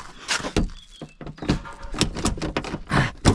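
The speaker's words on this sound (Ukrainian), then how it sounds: "Все, дверку ми відкрили." A jammed car door at a scrapyard is pried and yanked open with a tool, producing a series of irregular metallic thunks, knocks and creaks, close and fairly loud, with no talking.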